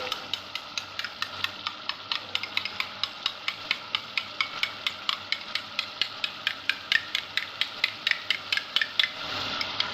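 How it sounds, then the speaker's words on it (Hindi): Keema sizzling in a pot after yogurt is added, with a spoon scraping and stirring in quick regular strokes, a steady close fry hiss underneath throughout. "ये दही डाल के भुनाई कर दी।"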